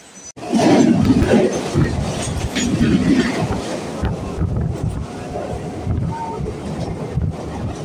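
A train rumbles past at Dadar station in Mumbai with loud, sustained rattling and clacking of wheels on rails, close by and continuous throughout.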